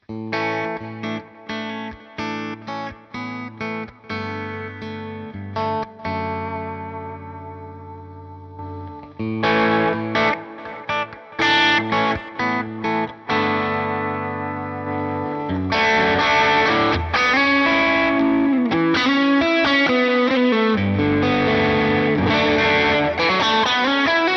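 A Fender Vintera II electric guitar plays through a Line 6 Helix on a US Deluxe amp model with no EQ, using a chorus and echo effect. Rhythmic chords ring out in short phrases with brief pauses, then a fuller, sustained passage.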